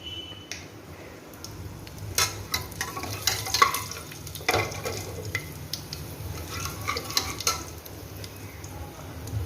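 Dried red chilies and panch phoron fry in oil, producing a close, continuous sizzle with scattered sharp pops and occasional utensil clicks, with no talking.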